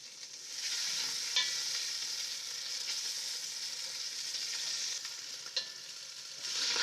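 Scallops sear in a hot pan with a steady, moderately loud sizzle, broken by a couple of brief crackles and pops, and the sizzle swells again near the end.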